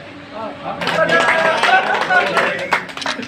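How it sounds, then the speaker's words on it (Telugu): A group claps in a quick, dense patter at a birthday celebration, starting about a second in and continuing, with voices singing or calling over it. "చప్పట్లే"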